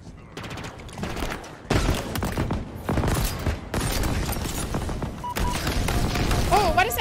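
Heavy, sustained gunfire and bursts of automatic fire crackle through a Warzone Pacific match, loud and continuous with explosive booms and game sound effects, while a player talks over the fight.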